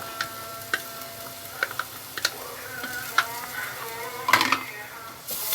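Garlic sautés in a pan for an okra tagine, a soft sizzle punctuated by several sharp clicks and scrapes of a utensil against the pan, ending in a brief louder clatter.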